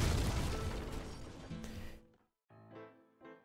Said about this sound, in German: So, dann explodiert es genau.